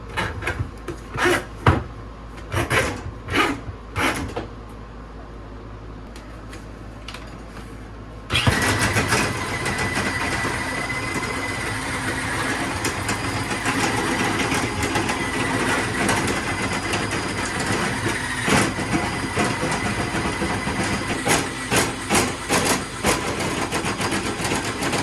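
Drain cleaning machine running in a restaurant drain at a coffee shop: a few scattered clanks, then the motor kicks on and churns with a steady, loud mechanical rumble and periodic rattling thumps.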